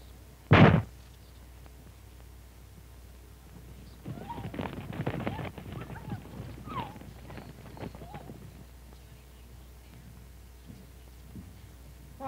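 Irregular hoof clops and shuffling from horses, moderately close, after a sharp thud at the start, with quiet stretches between.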